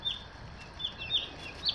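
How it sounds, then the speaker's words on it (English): Meat chicken chicks in a brooder give off soft, repeated high peeping calls in short bursts, moderately close and fairly faint over a low steady background hum. "So these are the meat birds that'll stay around"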